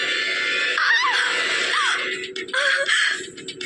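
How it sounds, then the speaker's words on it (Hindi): A girl screams in fright, a loud sustained shriek repeated in several bursts over a dense, noisy background in an eerie scene. "नहीं चाहते हुए भी उस लड़की की चीख निकल गई"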